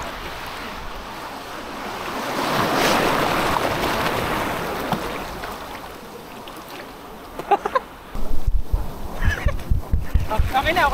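Large, rough ocean waves surge and wash ashore at Tagkawayan Beach, a broad continuous roar that swells and ebbs, with wind buffeting the microphone and louder gusty bursts near the end.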